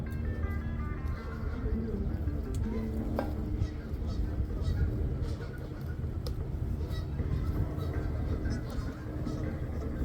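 Geese honk repeatedly at a small gathering in Port Colborne, a busy overlapping flock calling over a steady outdoor rumble, fairly close and continuous.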